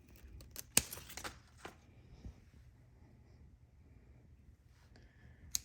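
Scissors snipping basil cuttings during up-potting for hydroponics, a cluster of sharp close cuts early on, then a long quiet stretch and a last faint snip near the end.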